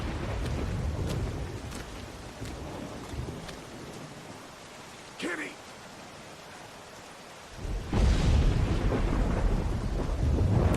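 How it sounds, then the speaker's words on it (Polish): Rain pours down steadily during a thunderstorm in The Walking Dead video game, briefly easing before a loud crash of thunder brings the downpour back heavier. "Niezła burza, co?"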